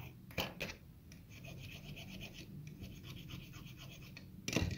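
A file rasps steadily against the tooth of a key for a small padlock, a close continuous rubbing scrape with brief louder knocks at the start and end.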